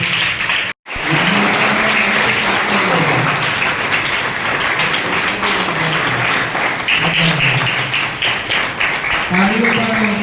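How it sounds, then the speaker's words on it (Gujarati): Applause from an audience at a school World Environment Day celebration, welcoming children onto the stage; dense, sustained clapping fills the whole stretch after a brief gap near the start, with voices heard under it. "એનું બધાય જોરદાર તાળીઓથી સ્વાગત કરીએ"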